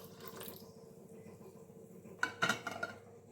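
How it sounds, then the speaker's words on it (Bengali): Semolina (sooji) is mixed with water in a bowl, with a soft wet background, then a brief flurry of spoon-on-bowl clinks and clatter near the end. "এবারে জল মিলিয়ে আমি 10 মিনিট রেস্টে রাখবো।"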